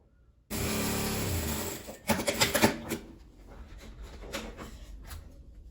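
A sewing machine stitches a patchwork denim jeans bag: a steady, fast run of stitching nearby, then a few short stop-start bursts that fade into quieter handling noise.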